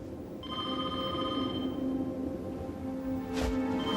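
A telephone rings with a repeated electronic bell tone in the middle of a late-night horror TV scene, its pulses sounding steadily across the moment before a brief noisy burst near the end.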